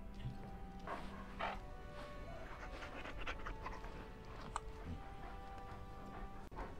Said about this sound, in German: Da ist er, dieser freche Köter.